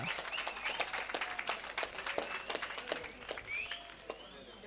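Crowd applause at a Kambala buffalo race semi-final, a dense patter of clapping from a sizeable audience heard at a distance, with a commentator's voice running over it.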